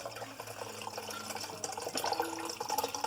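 Jameson whiskey for aged Manhattans is poured into a small aging barrel, a steady trickling, gurgling stream up close with no voices.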